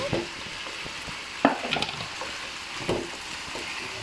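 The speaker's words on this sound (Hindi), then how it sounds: "अब मैं इसमें शामिल करूँगा टमाटर। ये टमाटर ऐसे साबुत इसमें डालने हैं।" Whole tomatoes drop into a frying mutton karahi, giving a steady sizzle with a few clattering splashes and scrapes as they land and are stirred.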